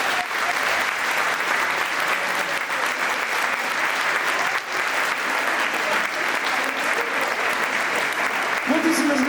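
Sustained, dense audience applause fills the hall after an orchestra's song, steady and loud throughout, with a voice briefly starting to speak over it at the very end.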